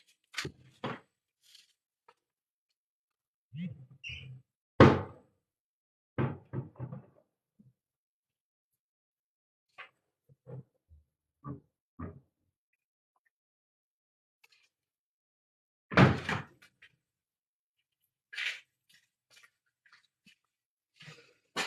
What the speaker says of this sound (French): je vais juste fermer les volets